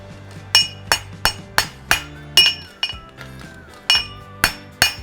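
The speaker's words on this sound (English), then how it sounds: "I'm going to shape the shoe." A farrier shapes a steel horseshoe on an anvil with a hammer, giving about a dozen sharp, ringing metallic strikes at an uneven, steady pace, each close and loud with a bright clanging decay.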